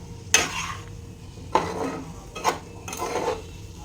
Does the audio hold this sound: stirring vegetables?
yes